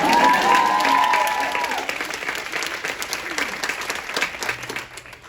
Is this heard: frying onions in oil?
no